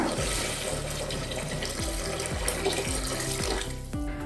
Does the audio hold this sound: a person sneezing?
no